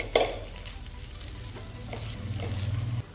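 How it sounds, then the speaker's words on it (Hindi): Tomato fried rice is tossed and stirred in a hot pan: a sharp knock at the start, then scraping and a steady sizzle over about three seconds, close and moderately loud. "अगर टॉस कर सकते हैं तो टॉस कर लीजिए, नहीं तो थोड़ा सावधानी से इसे मिक्स करते हुए चला लीजिए।"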